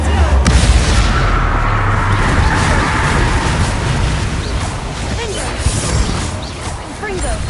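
Confringo fire spells cast in Hogwarts Legacy burst in loud, dense explosions and crashes, rumbling booms layered with debris and combat noise in a chaotic, continuous barrage.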